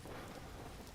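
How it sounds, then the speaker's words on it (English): Hail falling in the video game Vintage Story, a dense steady hiss of pelting ice like a hard storm, faint and continuous with no talk. "And now it's hailing and the gods not liking my blasphemy."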